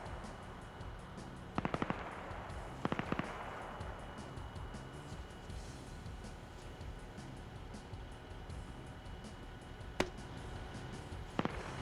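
Grenade launchers fire in the video game Arma, set in the Soviet-Afghan War. A few distant bursts of sharp cracks come at intervals, along with a single louder pop, over a quiet, steady background.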